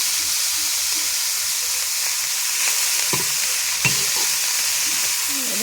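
Food frying in a pan gives a constant bright hiss and sizzle, with occasional soft scrapes as it is stirred and turned. Nobody speaks.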